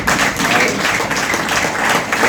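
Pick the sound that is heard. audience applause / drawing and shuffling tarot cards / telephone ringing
audience applause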